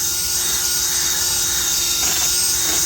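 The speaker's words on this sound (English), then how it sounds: "foam polishing pad, bit of Velcro backing, goes into a drill, and I will go over the headlight" A steady, high-pitched whir of a drill spinning a Velcro-backed foam polishing pad on a car headlight, constant and close, with faint rubbing as the pad moves.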